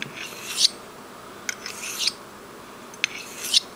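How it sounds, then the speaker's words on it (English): A straight razor with a small nick near the toe being honed on a whetstone, giving about four distinct rasping strokes, each swelling to a sharp scrape, close and alone. "this should flatten that out"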